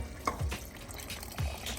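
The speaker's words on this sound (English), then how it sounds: "we're gonna add in our 2 cups of beef broth" Beef broth being poured into a pot of chili, giving brief liquid splashes and drips at close range, with no talking.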